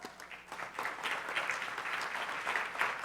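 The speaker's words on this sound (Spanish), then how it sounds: "vamos a recibirlos con un fuerte aplauso, por favor" An audience at a panel discussion on fiscal reform applauds, a dense, steady patter of many hands clapping at moderate distance, lasting throughout.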